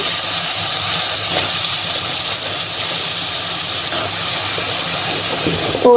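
Vegetables tossed into a hot pan in a home kitchen give off a loud, steady steaming hiss and sizzle that runs unbroken from start to finish, with no voices over it.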